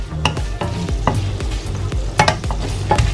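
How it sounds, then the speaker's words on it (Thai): Pork belly stir-fried in Japanese pizza sauce over gentle heat: a low bubbling sizzle under repeated rhythmic spatula scrapes and knocks against the pan, about two per second, close and fairly loud, no talking. "ผัดไปเรื่อยๆให้มันซึมเข้าเนื้อ ไฟไม่ต้องแรงนะจ๊ะ"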